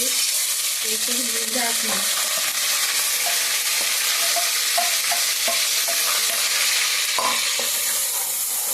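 Onions, green chili, ginger and garlic frying in a pan for chicken curry: a constant dense sizzle close up, with spatula stirring and scraping knocks scattered through, no voices.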